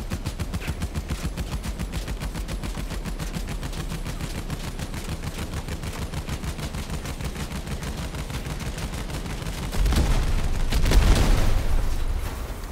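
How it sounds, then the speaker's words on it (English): Sustained rapid machine gun fire from vehicle-mounted gunners in a video game, a loud continuous rattling burst that swells into heavier booming impacts near the end. "So right now we got gun gunners and they should get more accurate the longer we hold down the fire button."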